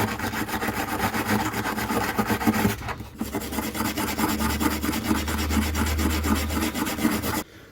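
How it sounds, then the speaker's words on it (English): A wire brush scrubs old finish off the wood of a rusty tool in close, steady rasping strokes, with a short pause partway through. "I want to gently try and take off the old finish off of the wood, so I'm just going to slowly work my way through that there, just scrubbing"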